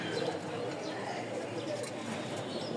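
Lakha and racer pigeons kept for sale coo softly in short repeated calls, close by, under someone talking throughout.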